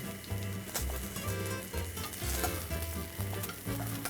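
A grilled cheese sandwich sizzling in a pan over a flame, a constant dense crackling fry with occasional scraping bumps, moderately close and continuous; no one speaks.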